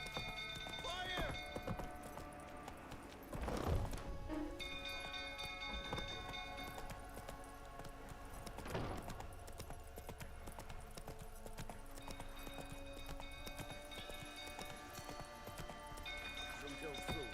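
Roach the horse gallops in The Witcher 3, with rhythmic clip-clopping hoofbeats running steadily under game sounds, a few louder thuds and bursts breaking through, and voices talking over it.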